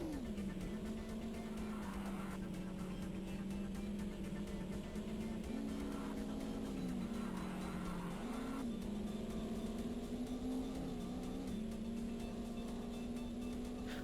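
A racing car's engine in Top Gear Rally on the Nintendo 64 drones steadily and fairly quietly, with small pitch dips and climbs as it shifts and revs, and runs alone throughout.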